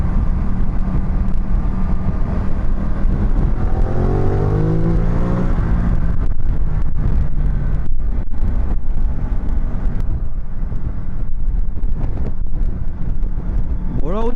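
A Ducati Multistrada 1200 motorcycle engine accelerates on a test ride, rising and falling revs under loud, continuous wind rush, with the pitch climbing through gears before settling into a roaring cruise.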